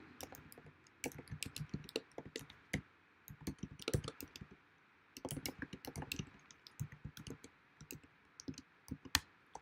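Fingers type on a computer keyboard, producing quiet, close, irregular bursts of crisp key clicks with short pauses, with no talking.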